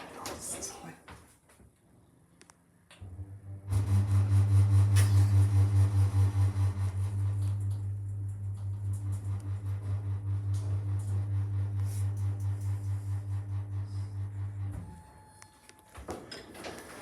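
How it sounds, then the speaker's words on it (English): A shopping centre lift motor hums loud and steady for around eleven seconds, starting with a clunk and cutting off abruptly, with quieter mechanical noises before and after. "Let's listen to the motor."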